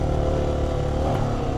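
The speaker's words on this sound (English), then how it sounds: "You can hear I'm in first gear" A 2025 Honda XR650L single-cylinder motorcycle climbing in first gear, its engine held at high revs with a steady, throbbing mid-pitched drone, close and loud, alone without talk.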